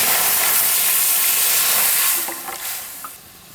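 Homemade wine poured into a hot uruli to cook fruit for plum cake bursts into an intense, loud sizzle that holds for about two seconds, then quickly dies down to a softer bubbling with a few small clinks.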